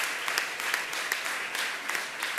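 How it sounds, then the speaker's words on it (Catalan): Audience applause at a children's and young adult literature anniversary celebration, a steady dense wash of many hands clapping throughout, fairly close and sustained without a break. "No, podeu seguir aplaudint"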